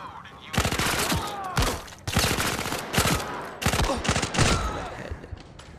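Repeated bursts of automatic gunfire from enemy targets in the Zero Caliber VR shooter, loud volleys and rattling fire arriving in clusters across the scene with brief gaps between them.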